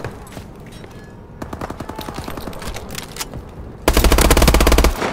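Rapid automatic gunfire from a video game weapon, sustained bursts of dense, rattling shots with a louder, heavier final volley near the end.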